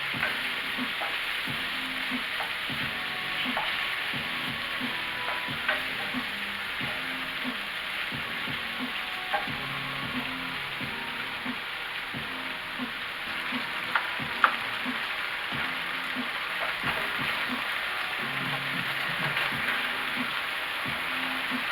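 Beef pieces browning in a frying pan, a steady close sizzle and crackle running throughout with occasional stirring scrapes and small pops.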